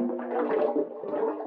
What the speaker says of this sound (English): The punch pours into the pipe